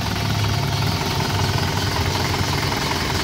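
A 2001 Isuzu Panther LV with a 2.5 engine idles steadily nearby, a constant low rumble with a light rattling texture that holds even throughout, with no voices.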